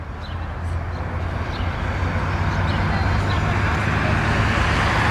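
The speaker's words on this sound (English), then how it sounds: "I can't hear you with the traffic." Continuous road traffic noise from passing vehicles, a loud steady roar that swells slightly over a few seconds, heard outdoors with no clear voice on top.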